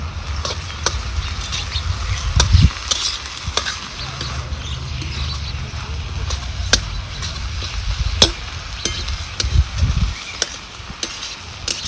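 Drumstick (moringa) vegetable sautés in a kadhai with a soft sizzle, broken by repeated scraping and clattering strokes of a spoon stirring.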